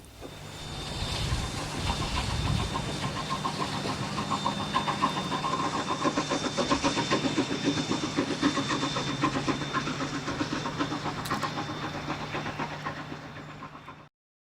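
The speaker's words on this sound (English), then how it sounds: "The little tank engine kicks up quite a cloud of dust as it passes by." A small steam tank engine passes by on the Niles Canyon Railway. A loud, steady chuffing and hissing roar with rail rumble holds for the whole stretch, with no one talking.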